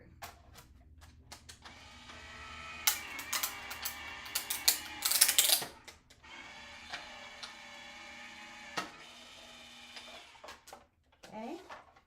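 A die-cut runs through a hand-cranked crafting machine, giving a close, uneven run of ratcheting clicks and grinding mechanical whirs that swell and ease in bursts, with a short pause midway.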